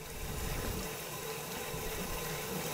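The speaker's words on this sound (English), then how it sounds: "rinse them out with the water." Water runs and sloshes continuously as used wine bottles are rinsed out, a steady close hiss of flowing liquid with no talk.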